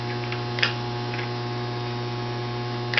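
An electric magnet unit hums steadily while switched on, a constant loud mains-style drone with a couple of faint clicks.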